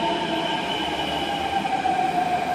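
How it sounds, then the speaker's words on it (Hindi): A metro train arriving at a station in Delhi: a loud continuous rumble with sustained high whining tones from wheels and motors, steady throughout and without voices. "हमारा मेट्रो भी आ चुका है।"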